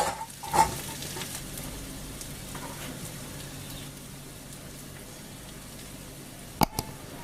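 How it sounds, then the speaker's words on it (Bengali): Onion and garlic frying in a pan, with a quiet, soft sizzle throughout, a few sharp utensil knocks near the start and again toward the end. "আমরা পেঁয়াজ রসুন দিয়ে দেবো। একটু ভালো করে ভেজে নিতে হবে।"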